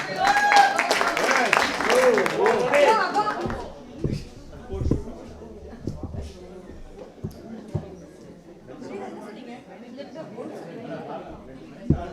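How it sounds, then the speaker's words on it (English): A birthday celebration audience claps and chatters after a lip dub performance of a 2000s song, starting as a dense, loud burst of clapping that fades after a few seconds into scattered claps and murmuring voices. "Can we give them a warm applause?"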